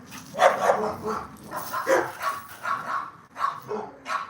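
A dog barks in a series of short, close, loud yaps and yips at an irregular rhythm, heard on its own without talk over it.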